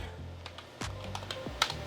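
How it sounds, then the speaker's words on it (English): Keys on a computer keyboard are typed in a short, uneven burst of crisp, close clicks against a quiet room, with no voices. "So if I type in semi2tech"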